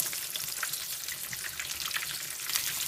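Carp frying in a pan after being turned over, a close, even crackling sizzle with fine popping spatter running the whole time, no voices.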